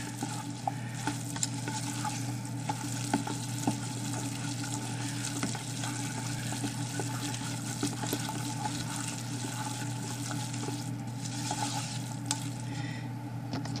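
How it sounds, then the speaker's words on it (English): A continuous close sizzle of a soap batch in a pot after a splash of water, with occasional stirring clicks, running steadily over a low, constant hum. "It's starting to sizzle."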